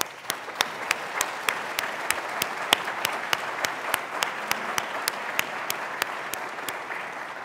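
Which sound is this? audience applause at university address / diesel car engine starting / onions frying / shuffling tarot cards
audience applause at university address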